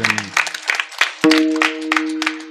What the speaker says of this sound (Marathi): जोरात टाळी वाजवा सगळ्यांनी.